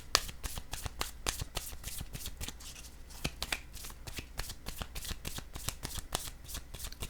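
Tarot cards being shuffled by hand in a steady run of crisp riffling flicks, close and fairly loud, with no voices.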